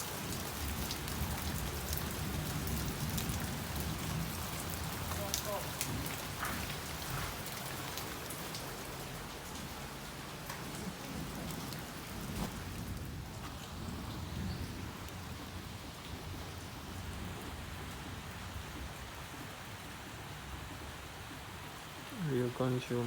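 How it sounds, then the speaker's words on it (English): Steady rain in Jamaica pours down on surfaces as a dense, continuous hiss, with a low rumble of thunder at times. Voices talk faintly under the downpour, and a sharp noise cuts in near the end. "Come out there, rain."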